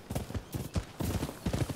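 Horse hooves clip-clop in the video game Rise of the Ronin, a quick uneven series of close, crisp footfalls in steady trotting rhythm with no one talking.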